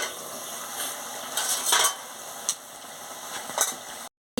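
Fish and telakucha leaf curry is stirred in a pan, steady sizzling with bursts of utensil scraping against the pan, then a brief cut to silence.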